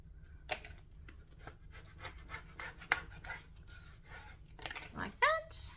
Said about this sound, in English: more scraping.